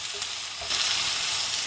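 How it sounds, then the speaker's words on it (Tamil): Onions sautéing in a pan for potato masala, a steady close sizzle that swells louder partway through, with no voices. "இப்போ பாருங்க இந்த அளவுக்கு நம்ம வதக்கினா போதும்"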